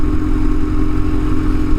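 BMW GS motorcycles riding past close by, a loud continuous rumbling engine drone with a steady low throb over nearly two seconds, no voices.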